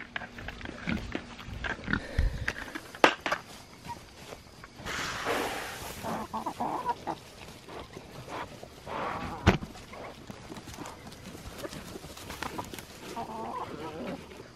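Pigs grunt and snuffle at feeding time during night chores on a small farm, with chickens clucking nearby and footsteps shuffling through the pen, sharp knocks and rustles breaking in now and then.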